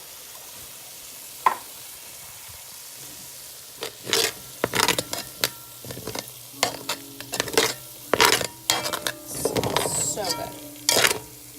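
A utensil knocks and scrapes against a pan while tomato sauce cooks, giving a faint sizzle under irregular, fairly loud clatters and stirring bursts, with a brief spoken remark near the start.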